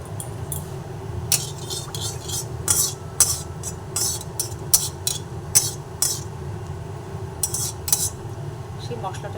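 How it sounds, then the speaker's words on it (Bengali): A spice paste with whole garam masala is stirred and fried in a pan for a vegetarian dish. A metal utensil clinks and scrapes steadily against the pan over a low, continuous frying hiss, with no talking. "দিয়ে ভালোভাবে নাড়াচাড়া করে ভেজে নিচ্ছি"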